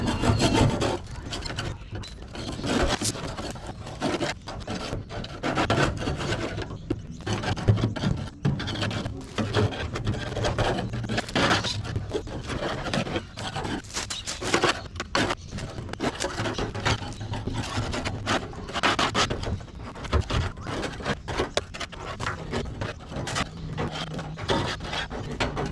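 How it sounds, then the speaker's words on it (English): Gunk being scraped and rubbed off the top of a part on an EK Holden wagon during a rescue cleanup, a continuous close rasping scrape with irregular strokes that runs steadily throughout, with no voices. "I've just been scraping all the crap off the top of it"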